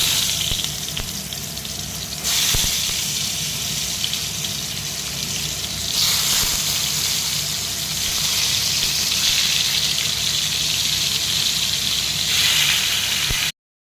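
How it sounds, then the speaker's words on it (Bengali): Pieces of pointed gourd (potol), rubbed with salt and turmeric, fry in oil in a kadai with a steady, loud sizzle and hiss that keeps going, with small surges in intensity and no talking. "এবার এইগুলোকে ভেজে নেব।"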